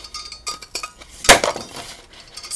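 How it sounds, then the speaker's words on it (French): A handheld paper punch snaps once through sheet of patterned design paper, a single sharp close clack amid faint rustling and handling clicks before and after. "Donc, je prends ma perforatrice"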